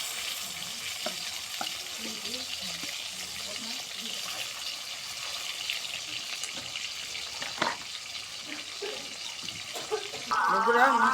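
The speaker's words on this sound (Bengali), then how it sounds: "মাছগুলা ভাজে নিব" Pangas fish frying in oil in a wok, a steady soft sizzle running throughout with occasional stirring clatter and a louder burst near the end.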